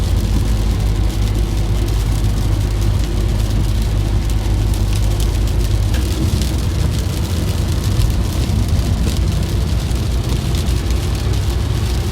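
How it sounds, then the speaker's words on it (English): Heavy rain blowing sideways around a parked van, a dense, steady hiss and patter on the surfaces close by, with a low rumble beneath, loud and unbroken throughout. "But the rain's coming in sideways, so we're still getting a few splashes."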